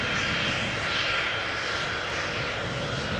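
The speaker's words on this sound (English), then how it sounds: "777-200 ER has arrived from Cape Town, South Africa." A KLM Boeing 777-200ER just arrived from Cape Town at Amsterdam Schiphol gives off a steady, moderately distant jet engine roar, an even broadband rush with no voices over it.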